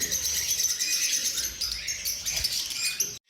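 A pair of red-eyed fallow lovebirds chirps steadily at close range, a dense stream of high, overlapping tweets with no pauses and no voices.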